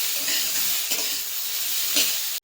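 Four chopped onions frying in a pan for chicken butter masala, a bright continuous sizzle and hiss with occasional scraping stir strokes and a short clunk at the end, no talking.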